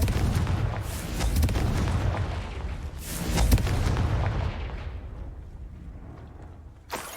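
Confringo fire spell blasts in Hogwarts Legacy, several heavy booming bursts over a rumbling roar that fades out, then one sharp final crack near the end.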